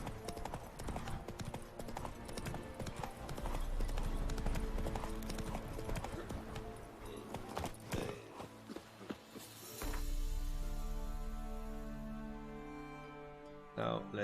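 Horse hooves clip-clop in a steady trotting rhythm inside a video game, close and clear, with a short break before the gait resumes; a voice speaks briefly over it.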